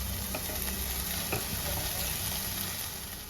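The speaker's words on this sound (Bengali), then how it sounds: "একটু হালকা হালকা করে সব মাছগুলো ভেজে নিলাম" Soft lote fish (Bombay duck) fry gently in hot oil with a steady, even sizzle and a few faint clicks of handling, no voices.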